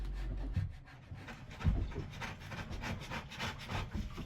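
A scraper works chemically stripped white paint off African mahogany wood, giving a series of rough, uneven rasping strokes, close but fairly quiet, with a couple of heavier knocks and no talking.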